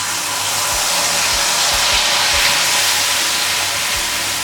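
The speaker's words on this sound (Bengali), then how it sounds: "তেলটা গরম করে নিয়ে আমি দই ইলিশের জন্য যে ম্যারিনেট করে রেখেছিলাম মশলাটা সেটা দিয়ে দিলাম।" Marinated spice paste for doi ilish, a Bengali yogurt hilsa curry, hits hot oil in a pan, giving a loud, steady broadband sizzle and hiss with a few low thumps, close up and with no voices.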